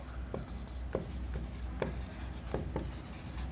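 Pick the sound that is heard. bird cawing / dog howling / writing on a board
writing on a board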